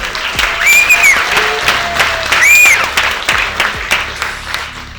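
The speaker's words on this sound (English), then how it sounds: "let's give him a round of applause" A theater crowd at a live event applauds loudly with dense clapping and scattered whoops, while high whistles cut through twice.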